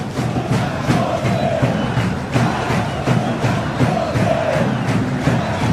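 Vasco fans chant in unison at São Januário stadium during a Copa Sul-Americana night match, a loud, steady crowd roar with rhythmic surges running throughout.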